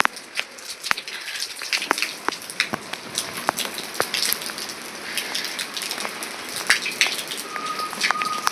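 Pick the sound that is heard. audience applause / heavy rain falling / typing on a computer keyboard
heavy rain falling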